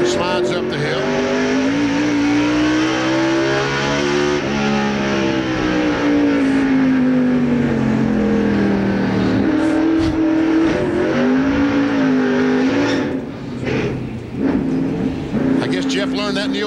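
NASCAR stock cars race at Martinsville Speedway in the 1997 Winston Cup Goody's Headache Powder 500, their engines a loud, sustained roar that rises and falls through the turns under crowd noise and commentary.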